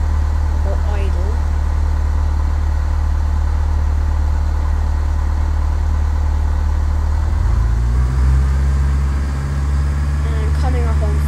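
A Cessna 172 engine drones steadily at low idle in Flight Simulator X during a landing approach, the tone shifting slightly partway through, loud and continuous while a person talks over it.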